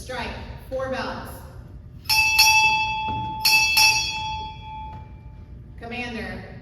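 Four strikes of a ship's bell, sounded in two paired rings at a Navy ceremony to announce an arriving captain, ring out bright and lingering between announcements spoken before and after.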